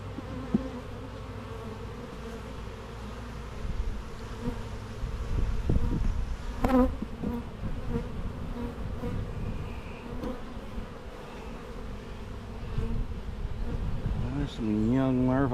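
Honey bees buzz continuously around an open hive during a beekeeper's inspection of a split colony, a close, dense drone that swells and fades as individual bees fly near, with a few louder passes overhead.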